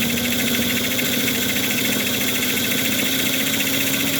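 Small electric motor running chuggy while its brushes are still breaking in, a steady loud whirring drone with a rough, pulsing texture throughout, no voices.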